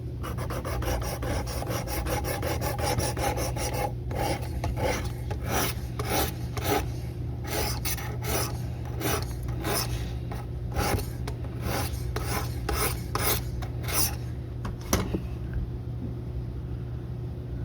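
Repeated rasping strokes of a knife blade across the abrasive stage of a Work Sharp Precision Adjust Elite sharpener, about a dozen steady passes close up over a low background hum, with no talking.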